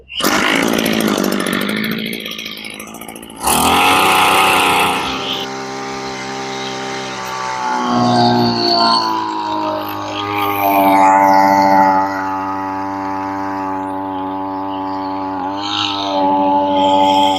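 An Ogawa SY660R power sprayer with a 1.2 horsepower, 26 cc engine is started, then runs loud and close with a buzzing, chainsaw-like drone whose pitch wavers as it sprays.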